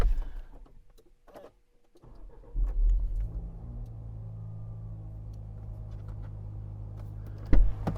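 Land Rover Defender L663 engine cranks and catches after a short quiet pause, settling into a steady close idle rumble, with a clunk near the end.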